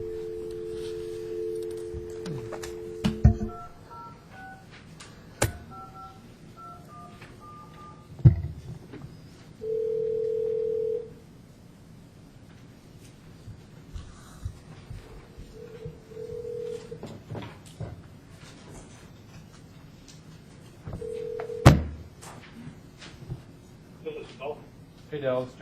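A telephone being dialed in a city council meeting room: a dial tone followed by stepped dialing tones, then later bursts of steady tone, with people speaking quietly in the room around them.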